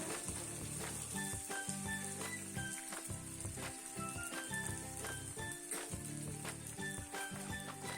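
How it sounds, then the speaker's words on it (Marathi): Edible gum (gond) powder fries in hot oil for winter ladoos, a close, dense crackling sizzle that runs continuously with fine popping and faint low rumbles underneath. "मी डिंकाची पावडर तेलामध्ये टाकून तळून घेते आहे"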